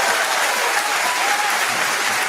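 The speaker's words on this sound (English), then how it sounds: "a Power, you sir deserve a round of applause right there" Steady applause from a crowd, clapping densely and continuously at an even loudness throughout.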